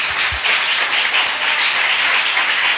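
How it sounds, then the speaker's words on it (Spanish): A church congregation breaks into loud, continuous applause, many hands clapping together in a dense, steady roar that fills the room from start to finish. "Le da un aplauso al Señor."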